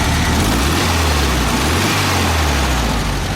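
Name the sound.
VW Beetle engine running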